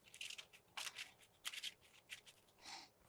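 A deck of game cards gets a power shuffle, with several crisp riffling bursts and short pauses between them, close and fairly quiet.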